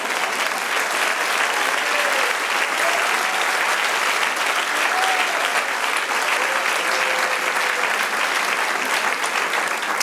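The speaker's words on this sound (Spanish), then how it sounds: "Dale aplauso al Señor." Church congregation applauding during a sermon, a dense, steady roar of clapping that fills the whole stretch without pause, loud and continuous.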